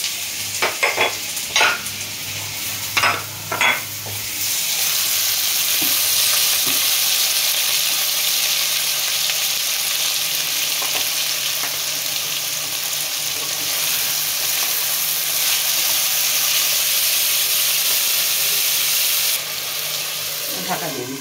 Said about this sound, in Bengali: এখানে পেঁয়াজটাকে আমি লাল করে ভাজবো না